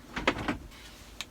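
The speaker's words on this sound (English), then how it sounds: "And I can close the door" An indoor door swings shut in a room where a projector screen is being hung, giving a couple of soft knocks and a latch click, then a lighter tap about a second later, all at moderate volume with no talking.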